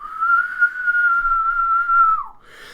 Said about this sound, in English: sharp whistling sound.